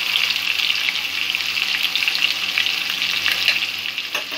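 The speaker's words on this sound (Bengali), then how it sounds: "পেঁয়াজটা কিছুক্ষণ কষে নেব।" Onions frying in a pan, a close, steady hiss of sizzling oil that holds loud and even throughout, with faint stirring scrapes and no talk.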